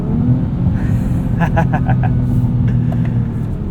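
A 2024 Acura TLX Type S with a 10-speed automatic holds its gear while accelerating on a night drive, heard as a loud, steady cabin engine rumble, with a faint brief voice over it.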